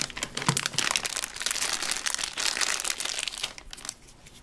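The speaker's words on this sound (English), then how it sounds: "So first, we're gonna unwrap the Play-Doh." Play-Doh packaging being unwrapped by hand, with continuous close crinkling and crackling of plastic wrap for several seconds.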